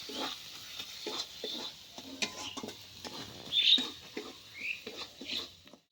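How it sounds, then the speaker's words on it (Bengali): Chicken curry being sautéed and stirred in a pan: faint, irregular scraping and soft sizzling patter, quiet and close, with no talking. "ভালো মতন কষিয়ে নিতে হবে।"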